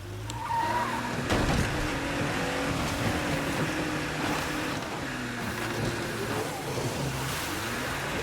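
A car in the zombie survival game State of Decay 2 is driven hard, its engine droning steadily at moderate distance with tires scrubbing and skidding over the terrain, no voices.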